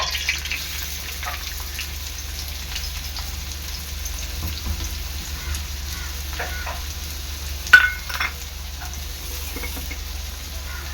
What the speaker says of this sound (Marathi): तेल चांगलं गरम झालेलं आहे त्यामध्ये आपण टाकायचा बारीक केलेला कांदा